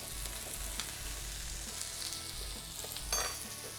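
Onions caramelizing in a pan, cooked until golden in their own sugars, give off a steady close sizzle with a low rumble and occasional stirring scrapes.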